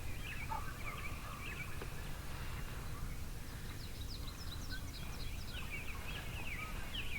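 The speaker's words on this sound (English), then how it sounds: "I could hear him gobbling on the other side of the hedgerow" Wild turkey gobbling from beyond a hedgerow at sunrise, a few short bursts of rattling gobbles at moderate distance over a steady low rumble of outdoor background noise.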